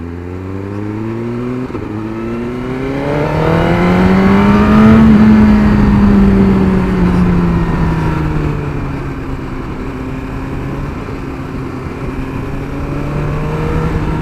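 A 2017 Suzuki GSX-R1000R's engine rises to a loud, sustained howl while riding, peaks, then eases back to a steady cruising drone, close and dominant over rushing wind.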